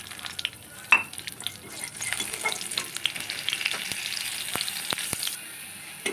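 Black cumin seeds and green chillies sizzle in hot oil left from frying fish, a steady crackling fry punctuated by sharp spits and the clack of a stirring spoon.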